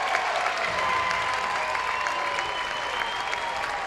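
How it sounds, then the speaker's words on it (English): A large baseball crowd at a college game in Columbus, Ohio State hosting Michigan, applauds and cheers in a dense, sustained roar with a whistle cutting through, heard from the broadcast booth. "the crowd will rise to its feet here in Columbus, looking to get that final out against Jonathan Kim, the freshman"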